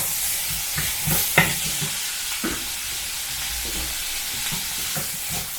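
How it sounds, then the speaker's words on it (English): Shallots sauté in a hot pan, a soft steady sizzle with occasional stirring clinks and scrapes, close and fairly quiet, with no voices. "Saute the shallots until it's soft."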